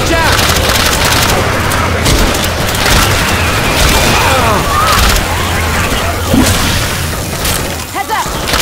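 Rapid gunfire and booming blasts in a Left 4 Dead-style zombie shooter, loud and dense throughout, with bursts overlapping and players shouting over the shooting.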